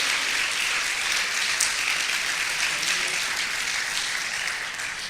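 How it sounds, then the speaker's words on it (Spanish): A church congregation applauding, a dense, steady wash of many hands clapping together, sustained and fairly loud for several seconds before tapering slightly at the end. "Si le va a dar un aplauso, dárselo a Dios"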